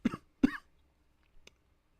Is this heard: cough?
yes